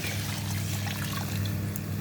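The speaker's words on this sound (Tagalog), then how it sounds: "Tapos lagyan natin siya ng tubig." Water pours in a steady trickle into a cooking pot of salted rice, heard close and moderately quiet for a couple of seconds, with no talking.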